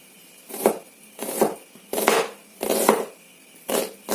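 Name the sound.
knife chopping onions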